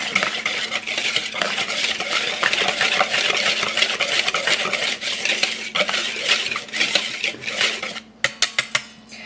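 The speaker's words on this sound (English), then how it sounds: "we're just going to whisk this together" A whisk beats ingredients together in a bowl with rapid, continuous rattling and scraping, close and fairly loud, ending in a few sharp taps of the whisk against the rim.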